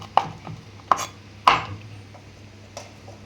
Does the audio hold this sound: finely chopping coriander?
yes